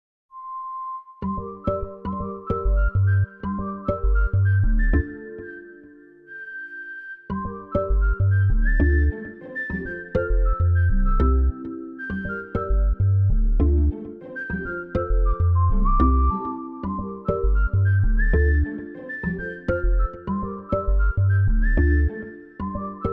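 A bright whistled melody rides over a steady beat and bass line, phrases repeating in a looping electronic Afrobeats track.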